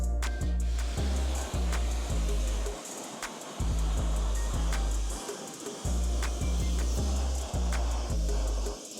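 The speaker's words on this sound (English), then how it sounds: "Now we're gonna rinse it down." Water sprays steadily over a car wheel to rinse off wheel cleaner and brake dust. The spray is a loud, continuous hiss with a rhythmic, pulsing low rumble underneath, close up and with no talking.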